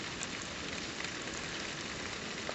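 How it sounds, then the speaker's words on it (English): Steady rain falls outdoors around a backyard bird feeder, a continuous dense hiss of drops on surfaces with no breaks, close and even in level. "It's raining"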